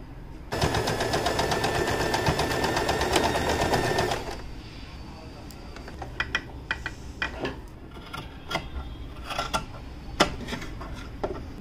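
A sewing machine runs in a fast, dense burst for about four seconds while stitching a neckline design on fabric, then falls to scattered lighter clicks and handling taps.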